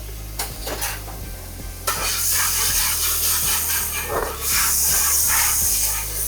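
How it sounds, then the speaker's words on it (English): A few metallic clinks against a hot skillet, then rum hits the pan with a sudden loud hiss of steam that fades and surges again. "We're going to put a little rum to deglaze"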